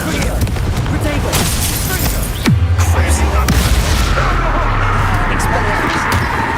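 A Confringo fire-blast spell goes off in Hogwarts Legacy combat: busy magical crackles and hits, then a sudden heavy boom midway followed by a rumbling, sustained low roar that lingers to the end.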